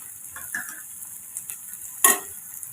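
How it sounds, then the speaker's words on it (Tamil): Beans, cabbage, capsicum and carrot are stirred in hot oil in a pan, giving soft scattered scrapes and one louder clatter of the spoon near the end over a faint sizzle. "இப்போ நல்லா 2 நிமிஷம் நம்ம வதக்கி விட்டு எடுத்துக்கோங்க"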